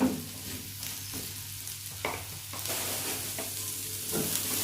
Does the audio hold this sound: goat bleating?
no